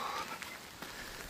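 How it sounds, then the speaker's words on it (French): Heavy rain falling on a walker's trail, a steady hiss of drops pattering on surfaces, fairly faint and continuous with a few sharper drips. "La pluie redouble d'intensité les amis."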